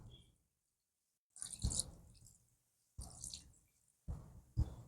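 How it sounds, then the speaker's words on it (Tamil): Turmeric water poured over a deity idol during ritual bathing at a home shrine gives a few separate soft bursts of splashing and trickling, quiet and close, with pauses between them. "இப்போ அம்மாவுக்கு மஞ்சள் தண்ணியில் அபிஷேகம் பண்ண போகிறேங்க."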